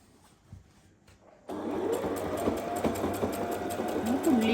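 A Brother GS2700 sewing machine starts after a near-silent moment and runs a scallop pattern stitch through two layers of fabric, a steady close mechanical whir with rapid needle ticking.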